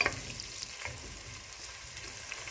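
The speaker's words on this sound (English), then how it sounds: "So I'll allow my onion to cook" Onion frying in a pan while cooking githeri, a steady soft sizzle with light stirring scrapes, close and continuous, no voices.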